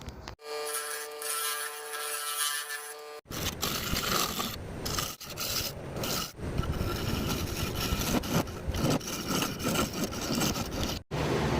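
An ironwood live edge bowl spins on a lathe as a turning tool cuts it, giving a loud, continuous scraping and rushing sound broken by a few brief pauses, with a steady hum heard alone in the first moments.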